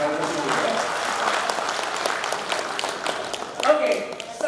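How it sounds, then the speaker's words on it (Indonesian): Audience applause at a law school graduation ceremony in Painan, a dense, steady wash of many hands clapping that swells near the end, with faint voices mixed underneath. "Boleh tepuk tangan kalau disini ya."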